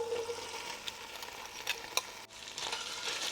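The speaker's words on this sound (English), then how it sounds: "So let's just stir those onions a little bit." Onions sizzling in a frying pan with leftover beef fat while being stirred, a steady hiss with soft scraping and a few clicks of the utensil, close and moderately quiet, without talking.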